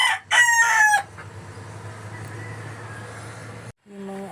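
A gamecock rooster crows loudly and close by at the start, followed by a lower steady hum of background noise and a brief voice near the end.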